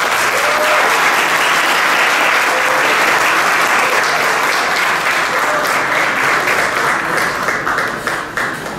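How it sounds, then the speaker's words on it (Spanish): Audience at a formal ceremony giving a director sustained applause, a loud dense roar of many hands clapping continuously for nearly nine seconds before thinning slightly at the end. "para la cual pedimos un fuerte aplauso, por favor."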